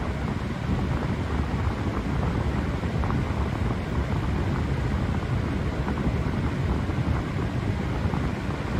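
An electric fan with a little dirt on its blades spins steadily, giving a continuous broad whoosh of moving air, loud and close to the microphone, with no change in pitch and no voices.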